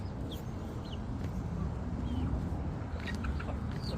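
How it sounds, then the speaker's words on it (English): Chickens cluck softly, with a few short high chirps over a steady outdoor hiss, somewhat distant. "Little chickens. Little chickens."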